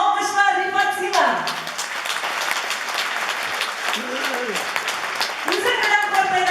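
An audience at a Tatar song concert applauds steadily through the middle, with a presenter's voice speaking at the start and end.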